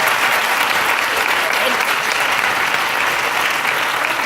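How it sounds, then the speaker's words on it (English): An audience claps for panelists at a reunion panel event, a dense, even round of applause that holds steady and fills the room for several seconds. "And another round of applause for our panelists."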